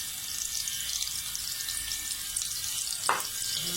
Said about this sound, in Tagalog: Hagisan muna tayo ng ating bawang at sibuyas.